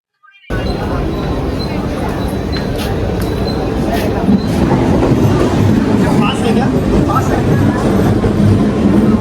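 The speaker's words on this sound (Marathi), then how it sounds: "तर फास्ट ट्रेन पकडली आपण" A Mumbai local fast train running, heard from inside the carriage as a loud, continuous rumble and roar of wheels on rails, with faint rhythmic clatter throughout.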